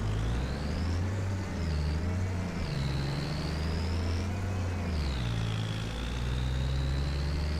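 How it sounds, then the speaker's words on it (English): A tractor engine in Farming Simulator 25 during a silage harvest drones steadily throughout, a deep low rumble with a whining tone that rises and falls as the revs change, constant and close with no talk. "This tractor sounds like a fart."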